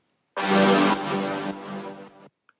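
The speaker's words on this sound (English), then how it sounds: "Then I found this horn sample" A sustained horn sample from a Moombahton track, pitched up two semitones, plays as one loud, rich held blast lasting about two seconds with a slight dip midway, then cuts off cleanly into silence.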